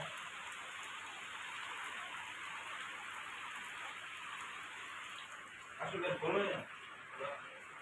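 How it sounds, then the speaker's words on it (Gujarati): Heavy unseasonal rain pours steadily in a broad, constant hiss, with a burst of louder voices and movement near the end. "ચોમાસા જેવો વરસાદ ચાલુ છે"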